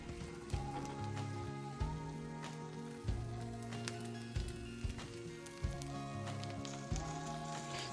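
Five small oat pancakes sizzle softly as oil is brushed around them in a pan. The gentle crackle sits faintly under steady background music.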